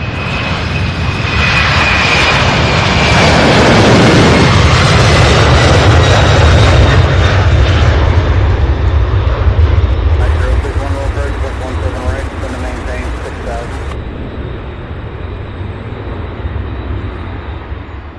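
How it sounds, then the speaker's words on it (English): A UPS Boeing 757 jet takes off at Worldport in the early-morning darkness, its engines building to a loud, close roar that peaks and then fades as it climbs away. Voices talk over it. "this is a 757 heading to Reno"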